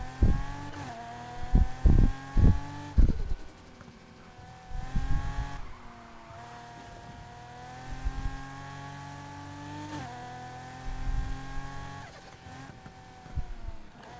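A Lamborghini Aventador Roadster in Need for Speed Heat revs hard, its engine tone climbing and falling in repeated loud pulls. Deep thumps punctuate the first few seconds, and there is no talk.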